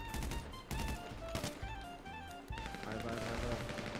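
Dense video-game gunfire from GTA V Online, rapid automatic bursts and shots layered over game music and effects, loud and continuous throughout.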